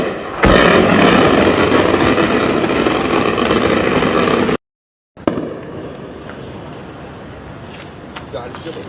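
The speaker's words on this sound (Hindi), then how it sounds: "इराक में अमेरिका का बेस जो है वहां धमाकों की आवाज आ रही है, सुनिए" Explosions at a US base in Iraq come as loud, rumbling blasts and crackling bursts over about four seconds. After a brief cut to silence, more distant booms and rattling follow, with voices faintly present.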